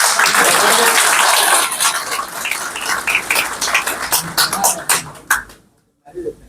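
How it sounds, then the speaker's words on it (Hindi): An audience at a BJP district meeting in Rohtas claps loudly in a dense burst. The applause thins into scattered, uneven claps and then stops abruptly near the end. "तलिया सब लोग मारिए जरा, कि प्रेशर भी हो"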